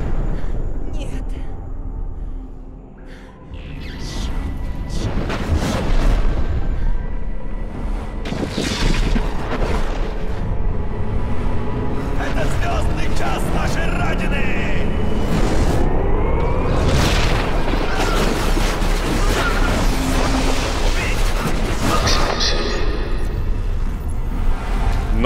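Explosions in the video game Crysis come as repeated loud booms and blasts over a continuous rumbling background, with game characters shouting throughout.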